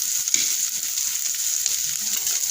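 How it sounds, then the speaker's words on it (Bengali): Finely chopped onion fries in a pan for a Bengali prawn curry, a steady bright hiss and sizzle throughout with a few soft stirring scrapes underneath and no talk. "এটাকেও আমি হালকা ভেজে নেব।"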